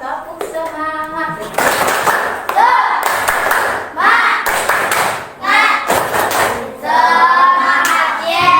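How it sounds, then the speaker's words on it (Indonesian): A classroom group performs a rhythmic spirit clap, sharp hand claps and thumps landing in bursts while young voices chant along in unison between and over the claps. "Ayo, tepuk semangat."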